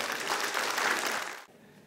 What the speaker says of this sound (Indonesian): Berikan tepuk tangan sekali lagi saudara.